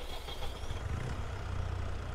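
A farm vehicle engine idles in Farming Simulator 22, a steady low rumble with a faint whine above it, continuous and fairly close throughout.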